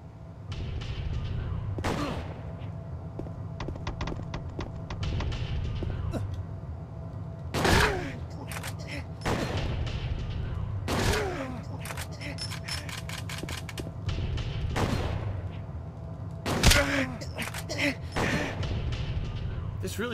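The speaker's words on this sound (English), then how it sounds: "This fucker's shooting me like crazy." Enemy gunfire in Silent Hill 2, a series of sharp, loud shots spaced irregularly through the stretch, several coming in quick bursts, heard alongside game background noise and a voice talking and groaning.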